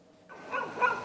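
A stray dog on a street in Thimphu, Bhutan, gives short barks and yips, moderately loud, with a louder burst near the end and no talk.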